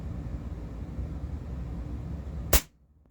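A Gamo air rifle fires a PBA Raptor pellet in a single sharp, loud crack near the end, cutting through a steady low background rumble and leaving quiet behind it.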